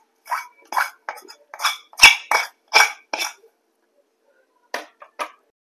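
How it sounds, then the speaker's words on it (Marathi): Paan gulkand modak filling being scraped out of a pan with a spoon, a series of short, close metallic scrapes and clinks in an uneven rhythm, then a pause and two more scrapes. "जे सारण आहे ते आपण इथं काढून घेऊया"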